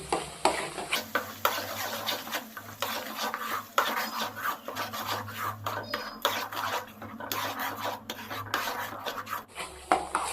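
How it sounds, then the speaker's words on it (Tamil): Masala paste sautéing in hot oil for an anchovy fish curry, with a spoon scraping and stirring against the pan in steady, repeated strokes over a continuous sizzle, close and moderately loud, with no talking. "மசாலா பேஸ்ட்டு சேர்த்து எண்ணெய் பிரிஞ்சு வர அளவுக்கு நம்ம நல்லா எண்ணெயில் வதக்கிக்கலாம்"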